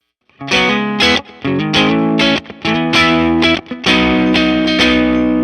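Overdriven electric guitar played through overdrive pedal models in AmpliTube 5 software, loud and continuous with a string of strummed chords and short riffs, brief gaps between phrases, no voices.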